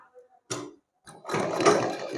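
A sewing machine stitches a small winter dress for a Laddu Gopal idol: a short whirring run after a brief mechanical clack, fairly close and moderately loud.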